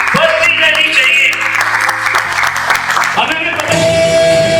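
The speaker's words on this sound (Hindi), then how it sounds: "जोरदार ताली बजती रहनी चाहिए" Applause from the audience at an Independence Day corporate event runs underneath loud music, the clapping blending into the sustained tones of the playing track.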